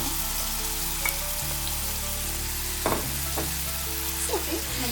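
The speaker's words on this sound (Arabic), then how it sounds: "بعد ما سخنا الزيت ديالنا غادي نضيفو الخليط ديال الدجاج ديالنا." Chicken mixture for tacos frying in hot oil gives a steady, dense sizzle close by, with a few faint stirring scrapes over a low humming background and no talk.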